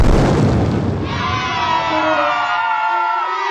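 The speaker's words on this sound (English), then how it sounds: "Boom! A beautiful blast." A cartoon magic fire blast in the sky in a Peppa Pig animation: a loud booming burst with crowd-like cheering, fading into a ringing, shimmering sparkle tail.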